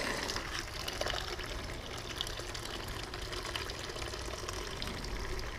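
Water flushes through the cooling system of a 2011 KTM 350 SX-F motorcycle, a steady close rushing and trickling stream that runs without pause.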